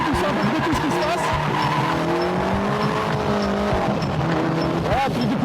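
Turbo Caterham R300 sliding with its tires squealing over a steady, loud engine drone, the engine note rising and falling as the car drifts, with someone talking over it.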